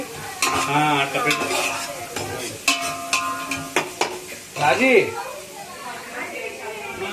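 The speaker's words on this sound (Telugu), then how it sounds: "ఒక గరిటె తీసుకొని కలుపుకోవాలి." A ladle stirs and clinks against a pot of ragi java at a family birthday gathering, with scattered metallic knocks and scraping while people talk throughout.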